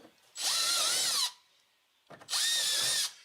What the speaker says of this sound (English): with your template in place, go ahead and drill out your 1/4 inch holes